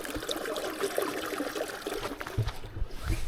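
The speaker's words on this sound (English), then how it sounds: "look at the water going through here" Water trickles through a small stream along a downhill mountain trail in Tiger Leaping Gorge, China, a faint, continuous babble heard close up and alone.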